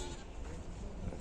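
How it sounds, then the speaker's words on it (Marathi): Goats bleating outdoors in a coastal Konkan village setting, a faint, noisy bleat amid background sound with no clear talk. "बकऱ्या एका बकरीच्या मागणं येतात ते सर्व."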